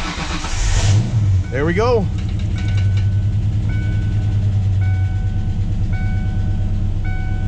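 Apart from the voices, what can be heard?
1996 Ford Mustang 5.0 engine first start and running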